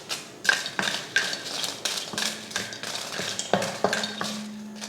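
Dried red chillies and cashews dry-roasting in a kadai, with a spatula stirring and scraping against the metal in a steady run of sharp, close clatters and faint sizzle, no talking.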